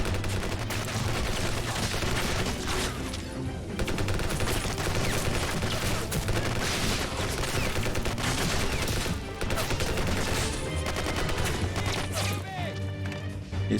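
Sustained gunfire from rifles and a machine gun in the game Ravenfield rattles on continuously as dense, overlapping bursts and shots, loud and unbroken through the clip.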